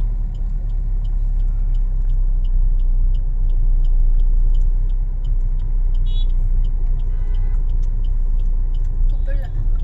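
A car drives along a road through a slow left turn, its engine and tyre rumble steady and close for the whole stretch, with no talk over it.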